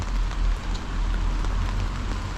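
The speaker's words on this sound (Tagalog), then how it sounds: "umuulan" Steady rain pours down in Paris, a dense continuous hiss over a low rumble, with no voices.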